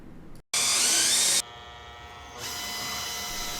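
A power drill boring through a bolt on a Toyota 4Runner fuel tank strap, whining in short bursts at shifting speeds after a brief pause, loud and close with no talk.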